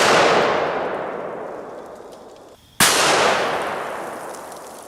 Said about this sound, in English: let's hit it with the 500 Smith & Wesson Magnum